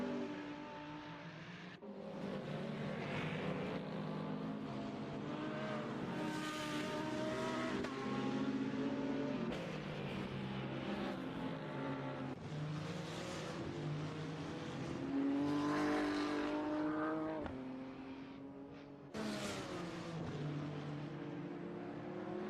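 Hypercar engines race at Interlagos in a sim racing game, a continuous loud roar with rising and falling revs as several cars pass, steady throughout with brief dips.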